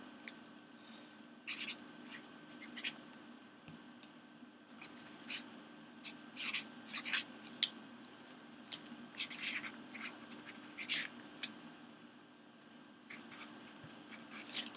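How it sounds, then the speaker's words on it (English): Pencil scratching on paper while login details are copied down by hand, in short irregular strokes and scribbles over a steady low background hum, fairly quiet and close, with no talking. "So I am writing it down."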